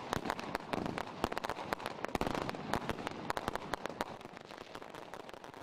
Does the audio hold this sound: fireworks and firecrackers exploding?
yes